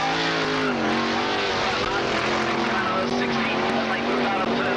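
Dirt track race cars from the 1985 War of the West howling down the main straight out of turn four, a dense, sustained engine drone with shifting pitch beneath steady announcer commentary.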